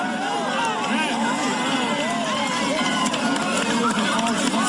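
A dense crowd hubbub of overlapping voices and chatter, loud and close, as a man shoves his way through a packed 1988 gathering; steady commotion with no single clear voice.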